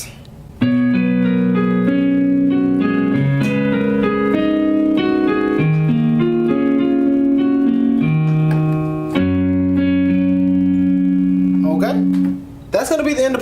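Part 3 of a song is played on piano with layered sustained chords, shifting bass notes and a melodic top line, heard close and clear with short pauses before and after.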